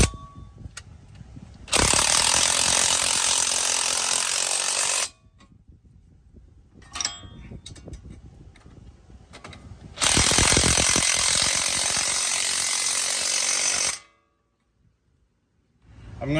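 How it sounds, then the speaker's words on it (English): A wrench snugs bolts on the CV axle of a 2011 front-wheel-drive 3.6-litre Dodge Avenger, giving two long bursts of loud, steady mechanical whirring with quieter metallic clicks and handling noise in the pauses between them. "I'm going to put the wrench end on the nut side, and I'm just going to basically not torque these down to spec yet"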